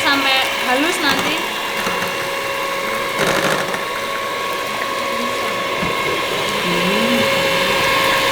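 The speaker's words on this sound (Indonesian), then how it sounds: "Garamnya dimasukkan terus di mixer sampai halus nanti." Electric mixer whirring steadily as it blends flour with salt, a continuous mechanical drone with rattling gear noise running throughout, close and fairly loud, with faint voices in the background.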